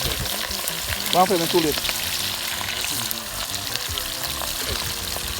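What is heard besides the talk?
fish frying golden brown in a pan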